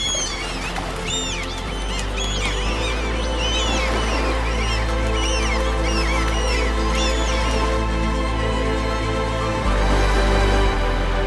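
Seagulls crying over a Danish harbour full of colourful fishing boats, a string of rising calls heard against a steady sustained musical backdrop.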